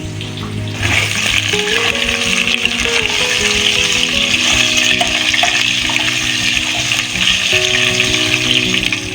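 Chunks of sweet potato and potato frying in oil for a Bengali wedding-style fish head chhyachra: a loud, continuous sizzle holds steady throughout, with sustained tonal background sounds underneath and no talking.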